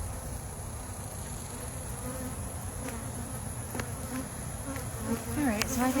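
Honey bees buzzing around an open hive, a dense continuous drone close by with individual bees passing near, steady throughout with no talk.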